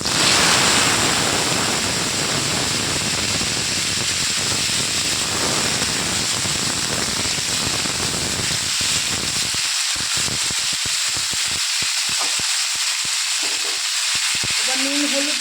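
Vegetables dropped into hot mustard oil with five-spice tempering give a loud, continuous hissing sizzle that later breaks into crackling, spattering bursts as they settle in the pan.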